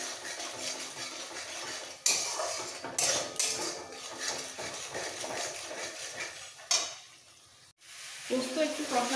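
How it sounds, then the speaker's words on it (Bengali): A spatula scrapes and stirs poppy seed paste with red chili powder as it fries in a pan for a pumpkin-greens dish, giving a soft sizzle broken by a few sharp metallic clatters against the pan. "পোস্ত একটু কষানো হয়ে গেছে"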